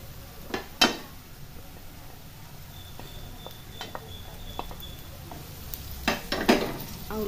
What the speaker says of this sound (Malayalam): ഇഞ്ചിയും ഗാർലിക്കും പിന്നെ ഒരു പച്ചമുളകും ഇട്ട് ഒന്നുകൂടി ഒന്ന് വഴറ്റിയെടുക്കാം